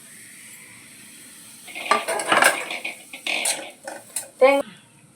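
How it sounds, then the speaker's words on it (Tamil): Grated coconut being dry-roasted in a pan on the stove for Kerala-style fish curry, with a metal spoon scraping and clinking against the pan in bursts after a quiet start. "முதல் தேங்காயை வறுத்து எடுத்துக்கணும்."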